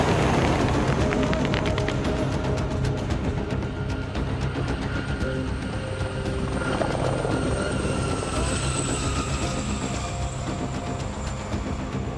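A French Army military helicopter flies close by, its loud, continuous rotor chop and turbine whine holding steady throughout, with the engine tone slowly drifting in pitch and no voices heard.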